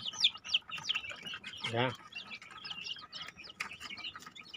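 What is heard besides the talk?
chicken chicks chirping in a coop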